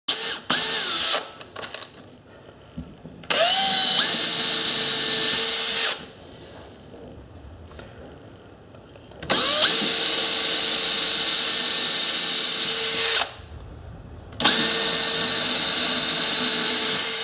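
A drill bores a tiny hole in a glass marble mold made on a woodwork lathe, whining in four separate high-pitched bursts of a few seconds each, with quiet pauses between them.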